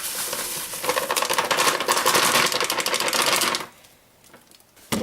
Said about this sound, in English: we're going to empty this entire bag of breadcrumbs into this bowl